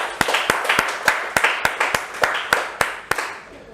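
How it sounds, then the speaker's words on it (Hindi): A group applauds in rhythmic, evenly spaced claps, about a dozen sharp hand-claps in a steady beat at moderate loudness, with no speech over them. "इस जज्बे के लिए एक बार जोरदार तालियां हो जाएं।"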